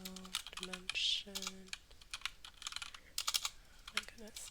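Quick bursts of keystrokes on a computer keyboard, clicking in uneven runs at close range while someone speaks quietly in between.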